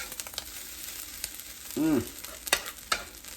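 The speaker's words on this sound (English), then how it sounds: "Stir our rice." Fried rice with shrimp sizzles in a pan while a utensil scrapes and clanks through it in irregular strokes, close by, with a brief voiced sound partway through.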